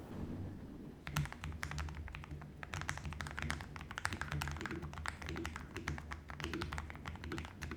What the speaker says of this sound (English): This combination gives it a deep, funky typing sound.